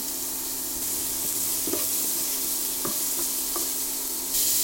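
Steady sizzling of onions, curry leaves and garlic frying in hot oil, with a few soft clinks and stirring knocks over the continuous hiss.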